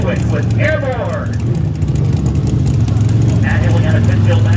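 The monster truck Airborne, a 1969 Ford F100, runs at Lebanon Valley with a loud, steady low engine rumble that continues throughout while an announcer talks over it.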